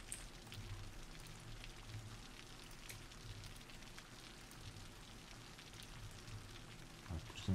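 Video game rain in Cities: Skylines patters across a surface with dense, even hiss, continuous throughout, ending with a couple of louder knocks.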